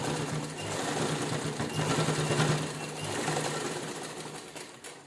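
A sewing machine runs continuously while stitching an apron made from an old shirt, a close, steady rattling hum with a pulsing rhythm that slows slightly near the end.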